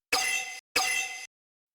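An edited sample of a struck glass bowl plays as a synth one-shot, sounding twice as bright ringing bursts of about half a second each, split by a short gap and then silence.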